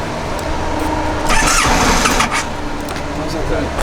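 Engine start on a 2015 Kymco My Road 700 scooter: a brief starter crank, then the engine catches and settles into a steady idle, loud and close, with a person speaking over it.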